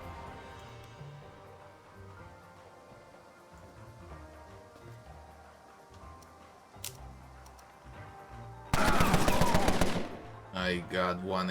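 Gunfire from the turn-based crime strategy game Empire of Sin: a loud, dense burst of rapid shots near the end, followed by a few shorter bursts, over a low background music bed.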